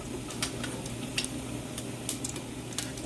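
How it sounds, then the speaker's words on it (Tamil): Mustard, cumin and fennel seeds crackle and sizzle in hot oil in a pan for mutton curry, with steady frying hiss and scattered sharp pops throughout, no talking. "ஒயில் சூடாகிறது கொஞ்சம் கடுகு கொஞ்சம் சின்ன சீரகம் கொஞ்சமாக பெருஞ்சீரகம் ஆட் பண்ணுறேன்"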